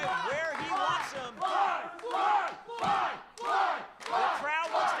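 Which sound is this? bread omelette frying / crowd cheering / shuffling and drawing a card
crowd cheering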